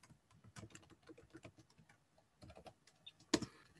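Fingers typing code on a computer keyboard, quiet irregular clusters of soft key clicks with brief pauses, ending in one louder sharp keystroke, no talking.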